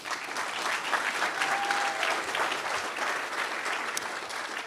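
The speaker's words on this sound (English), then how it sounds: "please give yourself a round of applause" A conference audience at the BSides PDX 2024 security event applauds together, a dense, steady wash of clapping that holds for several seconds at close range.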